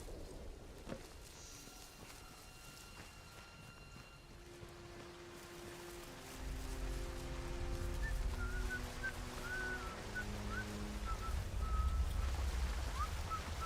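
Faint, intermittent whistled notes in the post-nuclear British countryside of the game Atomfall, carried over quiet ambience that swells into a low rumble partway through, with a few scattered sharp sounds and no speech.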